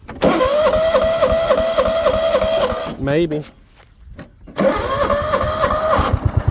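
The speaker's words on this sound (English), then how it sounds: "this thing should fire right up" A John Deere GX95 riding mower, engine warm, cranks and fires into a loud, steady mid-pitched running note up close, cuts out briefly into near silence, then roars back to life; a voice speaks briefly.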